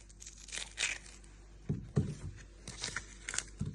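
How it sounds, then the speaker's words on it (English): Papery garlic skin being peeled by hand, a dry crinkling and tearing in short bursts close by, with a few soft thumps at the end and no talking. "And you want to peel 2 layers of the skin."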